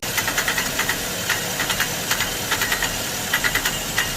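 2004-era Chevy Equinox engine idling with a strange loud noise: a steady close engine drone broken by rapid, irregular knocking ticks in clusters, no talk.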